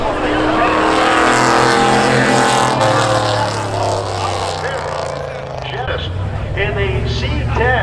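Race cars roaring off the corner at Seekonk Speedway spectator drags, a loud continuous engine drone with shifting pitch, under an excited announcer's commentary.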